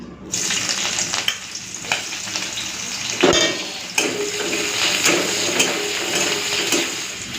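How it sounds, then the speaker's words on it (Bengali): Chopped onions and slit green chilies sizzle in hot mustard oil, a loud, steady frying hiss with a few sharp crackles and pops scattered through it. "সরষের তেলটা গরম হয়ে গেছে, আমি এখন দিয়ে দিচ্ছি পেঁয়াজ কুচি আর চেরা কাঁচা লঙ্কা।"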